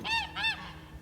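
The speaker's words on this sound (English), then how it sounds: "The geese are happy to be out today, out and getting green grass." Two close, loud goose honks in quick succession, geese out on green grass on a farm property where chickens also roam, with a faint outdoor hum beneath.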